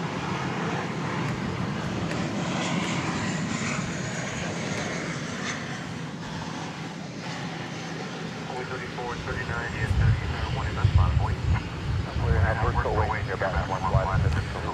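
A jet airliner that first flew in Swiss Air livery in 1994 rumbles at DFW Airport at night, its steady engine roar continuous under a talking voice and swelling louder toward the end.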